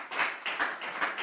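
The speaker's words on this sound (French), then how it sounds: "Très bien, on les applaudit tous." A small group claps in a quick, uneven patter at a provincial school quiz contest, brief and fairly quiet with a few distinct hand strikes standing out.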